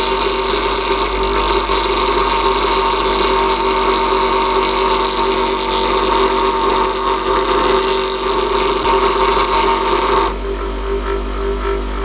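A woodturning tool is sharpened on a bench grinder, giving a loud, steady high-pitched grinding whine over a constant motor hum for about ten seconds before the grinding stops and only the motor hum remains.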